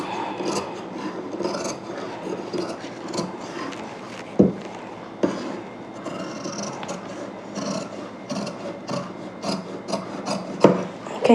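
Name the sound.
scissors cutting old saree fabric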